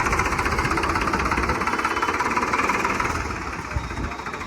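A Sonalika 60 RX Turbo or Arjun 605 tractor engine runs steadily nearby with a rough, knocking diesel throb that holds an even, pulsing rhythm throughout.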